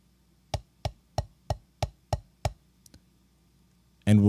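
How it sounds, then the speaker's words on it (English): Drum practice strokes played as a double followed by a single, giving seven crisp, evenly spaced hits at close range, then a couple of faint taps before a voice begins. "Now we're going to perform a double followed by a single."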